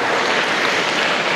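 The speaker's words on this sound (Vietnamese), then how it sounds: "Một tràng pháo tay thật to." An audience in a church breaks into loud applause, a thick, even burst of many people clapping at once that holds steady and close throughout.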